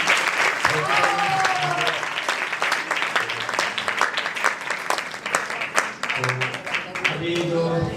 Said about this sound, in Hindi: एक बार फिर हम इनके लिए तालियां बजाएंगे